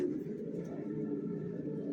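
Soft, low cooing of racer pigeon squabs murmurs steadily throughout, faint and continuous with no talking.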